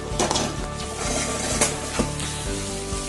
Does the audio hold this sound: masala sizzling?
yes